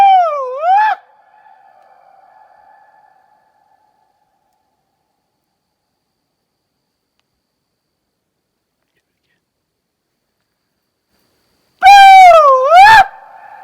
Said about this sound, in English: Listen for the echo.